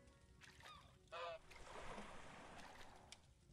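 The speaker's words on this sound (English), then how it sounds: "And there's another geese or goose." A goose in the island game Summer in Mara gives a single short honk, faint and quiet against a soft ambient water background.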